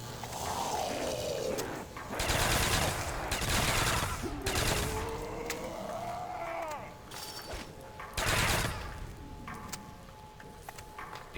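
Video game gunfire from an M1A1 weapon: bursts of automatic shots come in clusters amid battle noise, with bleating-like enemy cries between volleys.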